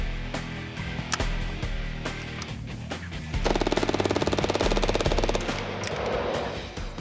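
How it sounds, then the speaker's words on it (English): MAC-10 submachine gun emptying a full magazine, then reloading and firing another: loud dense bursts of rapid automatic fire, a brief pause for the reload, then a long sustained rattle of shots close by. "this is MAC-10, unloading full magazine, reloading and unloading magazine again"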